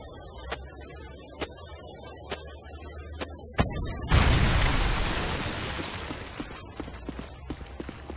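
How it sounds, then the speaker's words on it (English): Predator missile strike explosion in a video game: a few sharp, evenly spaced thuds lead into a loud, close boom that rumbles and fades over several seconds, with scattered pops after it. "Friendly Predator missile inbound."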